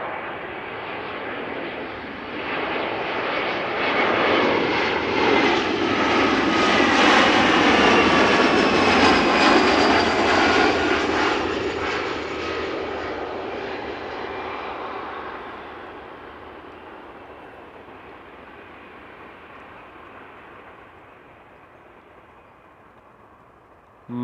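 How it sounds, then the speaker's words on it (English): A KLM Embraer jet airliner on the Cardiff flight comes in to land at Amsterdam Schiphol, its engine roar swelling to a loud peak and then slowly fading over about twenty seconds. "Yet another KLM flight 1060 arriving from Cardiff."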